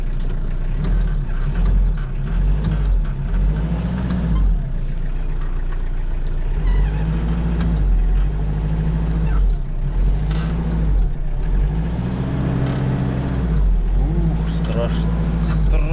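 A Hyundai Porter truck's engine drones low and steady as it pulls away in first gear, with rising and falling revs throughout, while someone talks over it inside the cab.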